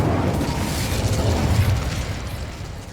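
Incendio fire spell cast in the Hogwarts Legacy video game, a loud, dense whooshing burst of flame with low rumbling body that holds steady for a few seconds before easing off slightly.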